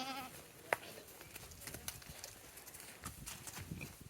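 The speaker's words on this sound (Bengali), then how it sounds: "এখানে আছে ঘোড়া" Horse at a garden farm with goats and sheep nearby; faint, scattered hoof clops and shuffling outdoors, with a brief sharp knock near the start and soft animal sounds in the background.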